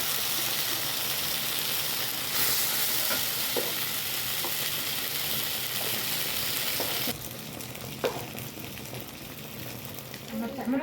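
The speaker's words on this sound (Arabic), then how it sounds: "والصلصه بتقوم نازله على البصل بعد ما يتحمر" Steady loud sizzling of blended, strained tomato sauce hitting hot oil and browned onions, a dense frying hiss that drops slightly midway, with occasional stirring clinks.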